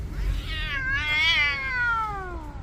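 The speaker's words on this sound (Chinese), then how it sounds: "小猫咪呀，你还在这儿啊？" A stray cat found on a rainy day lets out one long, drawn-out meow close by, rising and then slowly falling over about two seconds, with no talk over it.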